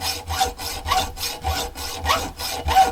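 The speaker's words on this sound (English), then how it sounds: "I could have used my bandsaw to do this, but a little bit of exercise doesn't do any harm, and it's always good practice to be able to hacksaw" A hand hacksaw cuts through a silver steel tool-steel rod in steady back-and-forth strokes, about three rasping passes per second, close and loud with no talking.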